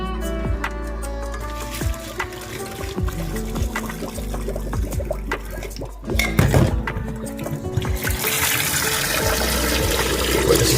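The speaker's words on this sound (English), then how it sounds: "let the cold water run into the pot for about 60 seconds" Cold tap water runs into a pot in a sink, with splashing, gurgling and trickling close up that swells into a fuller rushing pour toward the end.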